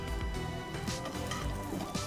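Basmati rice toasting in a pan over a low flame gives a soft, steady dry sizzle with faint scraping and light clinks of a utensil against the pan, close by and with no talk.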